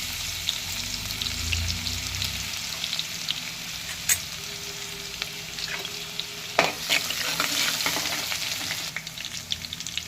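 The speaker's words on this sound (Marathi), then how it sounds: "चला लसूण बघा परतवून झालेला आहे आपला" Coarsely crushed garlic and cumin sautéing in hot oil in a pan, a continuous close sizzle broken by a few sharp spatula scrapes and taps.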